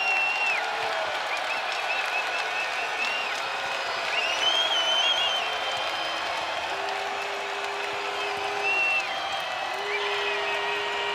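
A college basketball arena crowd roars and applauds during a tied men's game, a broad, steady wall of noise with whistle-like tones and horn blasts cutting through, carrying on without a break.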